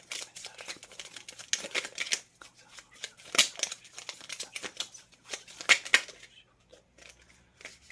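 Tarot cards shuffled and drawn close up, with irregular papery flicks and slaps, some sharper snaps, and gaps of near silence between bursts.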